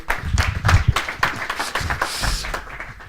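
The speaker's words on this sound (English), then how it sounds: "a round of applause anyway for Tero." Scattered clapping from a small group, uneven and fairly close, with a few louder claps among the patter and some faint background murmur.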